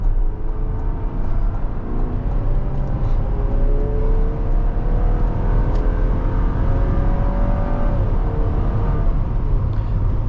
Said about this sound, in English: Let's see if I could get an acceleration right here